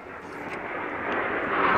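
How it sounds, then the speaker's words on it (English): A jet plane roaring overhead, a broad steady rush that swells gradually louder, with no voices. "that's a jet plane."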